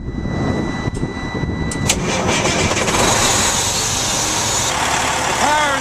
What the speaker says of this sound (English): The power in this is a Detroit Series 60 455 horsepower diesel engine.